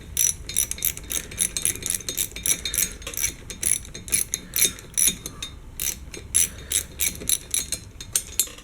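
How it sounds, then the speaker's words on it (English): A hand ratchet clicks in rapid, uneven bursts while working on the top end of a KTM 50 dirt bike engine, close and fairly quiet with no talking. "you can kind of use the ratchet"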